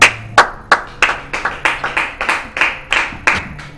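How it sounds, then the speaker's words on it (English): A pair of hands claps near a webcam microphone, about a dozen sharp, close claps in a quick, slightly uneven rhythm, loud and alone. "Again, I hear clapping."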